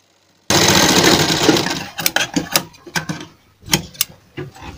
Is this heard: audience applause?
no